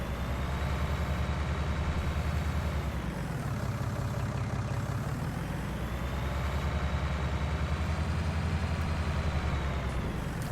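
A tractor engine in a farming video game, a loud steady drone with a slight rise and fall in pitch across the whole stretch.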